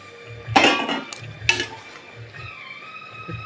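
Fish curry stirred in a pan with hot water added, two clear clinking scrapes of a utensil against the pan, then softer stirring noises at low level, with no talking.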